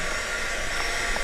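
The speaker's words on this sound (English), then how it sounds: "just going to give it a super quick blast with the heat tool just to dry that glue" A handheld heat tool blows a steady, even airflow to dry glue on a handmade card, a continuous close whooshing hiss with no breaks and no talking.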